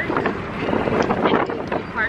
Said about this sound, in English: Probably can't really hear me because it's so windy